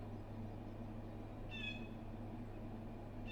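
A stray black cat in the video game Crusader Kings 2 gives a single short, high meow in the middle, heard over a steady low hum.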